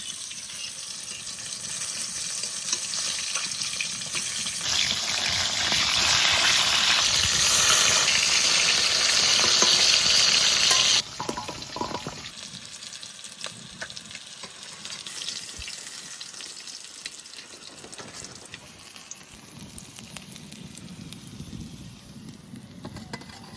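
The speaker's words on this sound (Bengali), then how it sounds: "মাছের 1 পিঠ ভাজা হয়ে গেছে, এবার উল্টিয়ে নেব" Rohu fish pieces sizzle in hot oil in a village kitchen, a loud broadband frying hiss that swells then drops sharply as the fish is turned over, continuing more softly with faint scraping.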